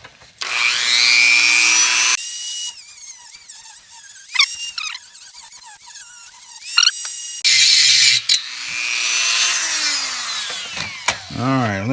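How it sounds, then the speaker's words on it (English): A roughly 25-year-old Dremel rotary tool grinds a rivet on a 1973 Mercedes 450SL R107, a loud steady whine in long bursts broken by scraping and metallic rubbing, with a brief lull of handling noise in the middle. "Time now for antique Dremel tool."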